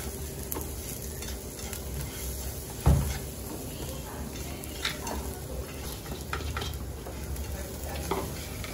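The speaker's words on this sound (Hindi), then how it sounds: "हमें इसे तब तक भूनते रहना है जब तक शुगर मेल्ट ना हो जाए" Sugar stirred and roasted in a pan until it melts, for a crepe filling: a constant low sizzle with repeated scraping of the spatula and one loud knock near the middle.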